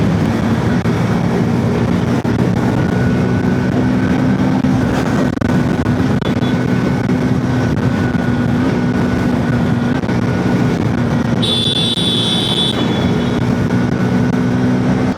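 A Hero Xtreme 160R 4V motorcycle rides on a highway from Bogura to Dhaka while overtaking. Engine drone and wind roar stay loud and constant throughout, with a brief high tonal horn-like sound near the end.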